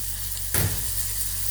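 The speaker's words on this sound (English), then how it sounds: "at this stage, we'll add our grounded paste of all the masalas" A ground masala paste hits caramelised fried onions in a pan for a fish curry, with a sudden burst of sizzling and a soft splat partway through, then a steady hiss over a low hum.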